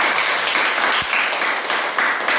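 A class of schoolchildren claps hands together in a steady, dense patter that fills the whole stretch at an even level, with no voices standing out.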